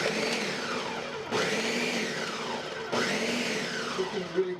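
Food processor pulsing basil pesto in a kitchen, three short whirring bursts in a row, each starting sharply and then winding down, fairly close and steady in loudness.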